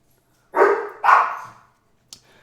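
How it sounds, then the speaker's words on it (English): Two loud barks from a nearby dog in quick succession, followed by a short faint yip or whimper, with no one talking. "We got the dogs barking here."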